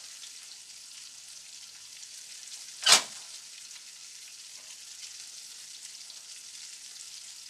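Potatoes sizzle in a frying pan with a steady, hissing crackle of hot oil, and a single sharp flare of louder sizzle bursts out briefly partway through.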